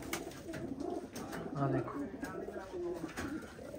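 A crowd of gathered pigeons coos in repeated low murmurs, close and fairly quiet, while someone speaks over them.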